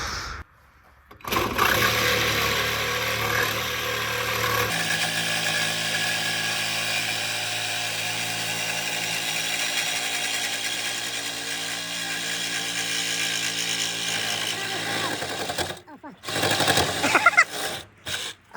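A power tool saws through the exhaust pipe of a Volkswagen Jetta for a muffler delete, a loud, steady, close buzzing grind that runs for about fourteen seconds, shifts in pitch partway through, then cuts off into clatter and brief handling noises.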